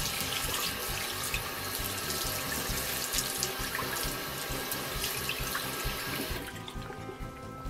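Water poured over a Luxa2 H10+ bike handlebar holder for an iPhone 5, a steady close splashing stream that runs without a break for several seconds, then tapers off near the end.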